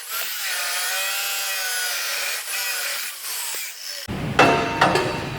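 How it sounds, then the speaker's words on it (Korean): A grinder cuts a notch into metal on a cutting jig, a steady high whine that drops and resumes briefly before a rougher, louder grinding burst near the end, close and without speech. "이쪽 면과 그라인더로 한번 칼집을 내서 이제 이 면을 맞춰주게 됩니다"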